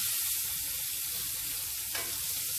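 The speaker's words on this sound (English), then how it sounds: "Let's give these mushrooms a stir." Mushrooms frying in a pan with tomato paste crackle in a steady, close sizzle while being stirred, with one brief scrape near the end and no voices.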